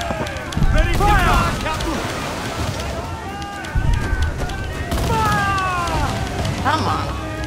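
Ship cannons in Assassin's Creed IV Black Flag fire in a couple of heavy, booming volleys during a naval battle, with loud voiced talk running over and between the blasts.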